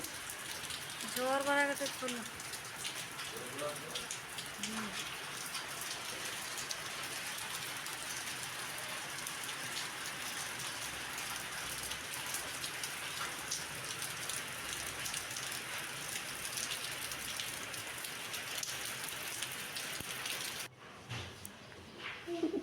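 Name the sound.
heavy rain falling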